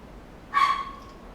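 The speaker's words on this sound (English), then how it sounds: "You can hear my dog going stupid." A pet dog lets out one short, sharp bark, close and distinct against a quiet background.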